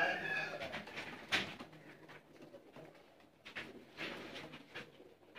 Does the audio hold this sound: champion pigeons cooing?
yes